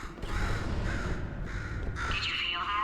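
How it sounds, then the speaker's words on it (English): Crow cawing in the Portal 2 video game, repeated harsh caws over a steady game background, fairly close and clear, with no talk. "Could you, murder this bird for me?"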